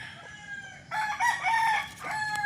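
A rooster on a chicken farm in Bauang, La Union crows once at moderate distance, a drawn-out call over a quiet farmyard background, with no talking.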